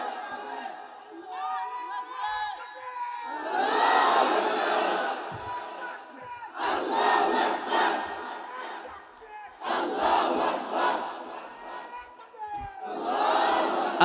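A large crowd at a religious gathering in Dhaka chants the takbir slogan in loud, rhythmic swells, four or five roaring collective responses separated by short pauses, with one voice leading between them.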